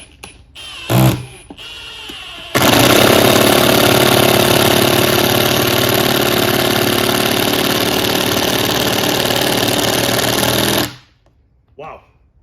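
Two impact drivers, a Milwaukee and a Metabo HPT, drive 3-inch screws together, a loud, dense, steady rattling hammer sustained for about eight seconds after brief preliminary bursts, then cutting off abruptly.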